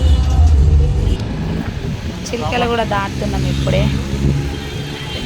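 Road traffic on the way to Tank Bund during a Ganesh immersion procession: a steady, close rumble of vehicles runs throughout, with people talking over it.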